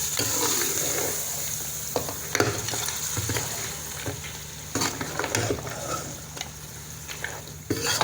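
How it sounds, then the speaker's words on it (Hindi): Goat trotters being mixed into fried masala in a pot, a close frying sizzle broken by repeated spoon scrapes and knocks against the metal, with no talk. "और मसाले में इसको कर लेते हैं हम मिक्स।"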